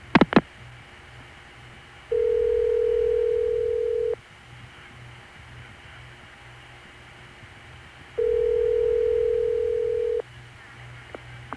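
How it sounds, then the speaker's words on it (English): Two long, steady electronic ring bursts from a New York city telephone line, each lasting about two seconds and separated by a gap, loud and clean, with brief clicks at the start. "did you hear that burst of ball-busting city ring that sounded like it was coming out of New York?"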